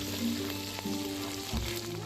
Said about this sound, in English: add in the Italian sausage. Let it cook, breaking it apart as it browns.